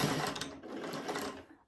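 A Singer 401 sewing machine stitches a back tack through fabric strips for a jelly roll rug, a brief, fairly quiet run of rapid mechanical needle clatter that stops abruptly.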